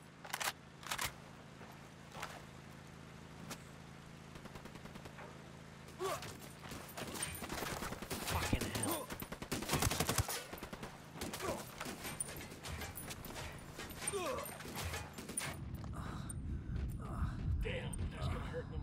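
Gunfire in a shooter video game, a scattered series of sharp cracks and clatters. It starts sparse and quiet, then grows into a denser, louder stretch of rapid shots mixed with mechanical rattling, with no voices over it.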